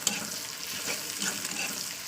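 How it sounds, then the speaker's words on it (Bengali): Ground turmeric frying in hot oil in a pan while being stirred, a steady close sizzle with light scraping strokes for the whole stretch, no talking. "হলুদটাও দিয়ে আমি একটু তেলে ভাজা করে নেবো"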